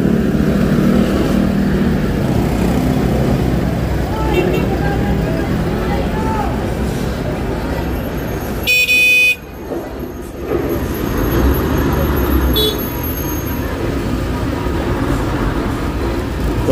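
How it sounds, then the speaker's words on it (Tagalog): Busy outdoor fish market with a newly arriving truck, traffic and vehicle horns, a steady broad rumble of engines and crowd babble with a sharp burst near the middle and talk throughout. "So dito may bagong dating na may bagong dating na truck."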